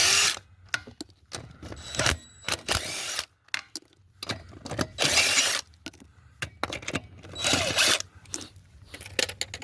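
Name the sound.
cordless 13/16 impact wrench removing Silverado lug nuts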